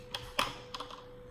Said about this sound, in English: So I see more people are typing